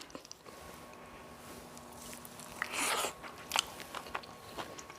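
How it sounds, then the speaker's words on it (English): A soft crunchy bite and chewing on sausage from a baked cabbage boil, quiet and close with light mouth noises and no talking. "If you do not like eating noises, just scroll away. I'm going in with the sausage first."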